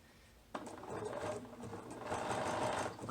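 A sewing machine runs steadily in a quick, continuous stitching burst while reinforcing the pocket of a pair of ladies' pants, starting abruptly after a short quiet lead-in and humming close and clear.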